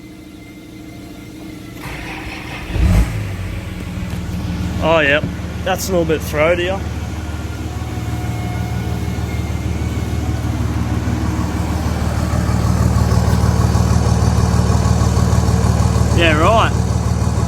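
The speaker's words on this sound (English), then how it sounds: "I'll turn her over and might get a bit of idle whistle now because it's 3 inch straight through with a side dump" A Nissan Patrol idles with a 3 inch straight-through side dump exhaust, a steady low throaty rumble that grows slightly louder, while people talk over it and a few whistling tones appear.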